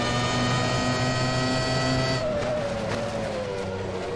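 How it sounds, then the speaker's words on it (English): Screaming 1998-era Formula 1 engines in the racing sim rFactor 2, a loud sustained high-pitched whine with one car shifting and its pitch sliding down while other engines drone underneath. "I just love the way these cars sound in this era."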